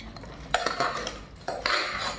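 Puffed rice being mixed in a bowl, giving a steady dry rustle with clinking of a spoon against the dish, a few sharper knocks standing out.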